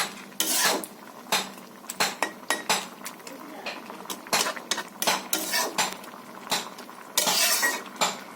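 A metal lid is set onto a cooking pot of chana dal with mixed winter vegetables and spinach, producing a string of sharp clanks and scraping clatters in quick succession, close and fairly loud.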